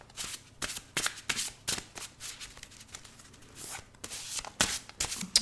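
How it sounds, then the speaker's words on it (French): Thin paper cards being shuffled by hand, a series of quick riffling and flicking bursts repeating irregularly at close range, with no talking. "C'est difficile à mélanger puisque ce n'est que du papier."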